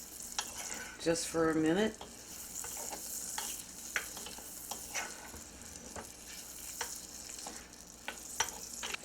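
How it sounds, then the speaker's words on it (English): Blackberries stirred and simmering in a pan for a buttermilk pancake topping, a soft continuous sizzle with a brief louder scraping stir near the start, a few light utensil clicks, and a short spoken phrase over it. "We'll stir that up. Let those simmer"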